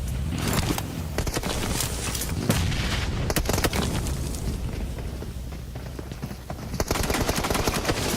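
Automatic gunfire in a competitive video game, shots sprayed into a loot crate amid a dense, continuous wall of game noise, loud and steady for the whole stretch with rapid cracks layered through it.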